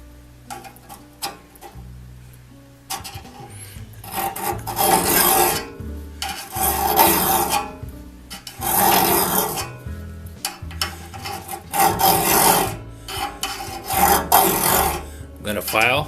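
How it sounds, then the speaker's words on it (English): A hand file rasps across the teeth of a one-man crosscut saw, shaping each bevelled tooth back to a point; repeated close, harsh strokes come in bursts separated by short pauses. "On a crosscut saw, the teeth are filed with alternate bevels."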